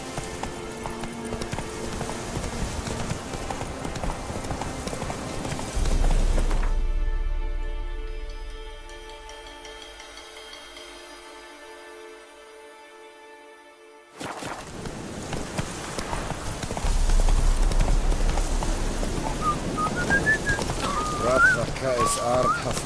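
Horse hooves galloping in the video game Witcher 3, a steady clip-clop under game music and ambience, dropping away briefly midway before the gallop returns, with a voice talking over it.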